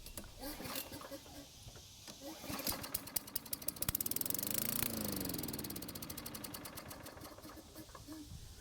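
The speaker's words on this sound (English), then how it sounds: "So luckily it started and ran for a few seconds" A Murray lawn mower engine is started and runs briefly. Its rapid sputtering firing builds into a steady, close chatter before fading back down, with talking before and after.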